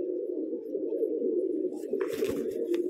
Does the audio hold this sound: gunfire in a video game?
no